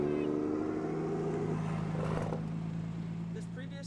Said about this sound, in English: if you heard engines rumbling across town, it was most likely the cars attending a local pop-up